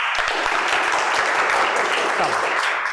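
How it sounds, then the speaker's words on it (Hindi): Classroom applause for a student during a Class XII chemistry lesson on chemical kinetics: steady, dense clapping from many hands fills the room throughout, with a few voices faintly underneath. "एक बार ताली बजा दो बच्चे के लिए"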